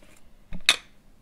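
A spoon clinks against a glass mason jar while ingredients are added, a soft thud followed by one bright, sharp clink, close and alone in a quiet kitchen.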